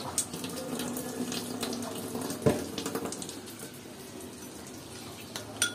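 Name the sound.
water being poured into a cooking pan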